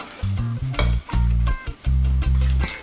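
Vegan whole wheat spiced pancake batter being mixed in a bowl: loud, rhythmic scraping and stirring strokes come in several bursts with short pauses between them, close up, with no talking.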